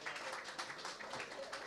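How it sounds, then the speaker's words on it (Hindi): Audience applause at a film trailer launch for the 2016 movie 30 Minutes, greeting the executive producer: steady, dense clapping from a crowd, fairly faint and continuous throughout. "मैं चाहूंगा आपकी तालियों के बीच उनका स्वागत हो"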